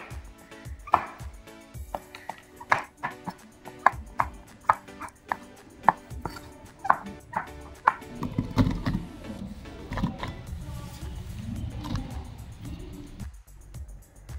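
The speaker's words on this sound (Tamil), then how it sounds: "ஒரு மஷ்ரூம் 4 சைஸில் கட் பண்ணிடுறேன்." A knife cuts mushrooms into quarters on a cutting board for a pallipalayam dish, with a series of crisp, regularly spaced chops up close. Busier clattering and rustling kitchen noise follows, and no one speaks.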